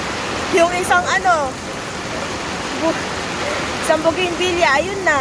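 Fast-moving flood water rushes steadily at dawn as a loud, continuous roar that fills the scene, while a voice talks over it.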